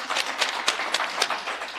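An audience at an authors' forum gives a brief, dense round of applause, a continuous wash of many hands clapping.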